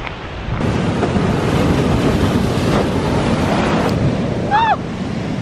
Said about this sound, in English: all the way along the coast, you can just see plumes of white sea spray today.